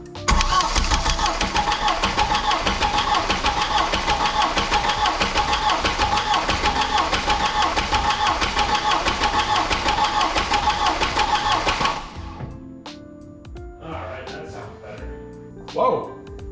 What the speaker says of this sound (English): I think this thing just decided to start cranking.